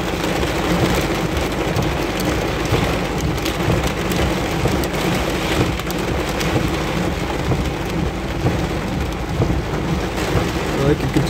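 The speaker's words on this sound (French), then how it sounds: "quelques petites rafales modérées, du grésil" A thunderstorm with driving rain, sleet and wind gusts, a loud, constant hiss of rain pounding on surfaces with low thunder rumbling underneath, close and steady throughout.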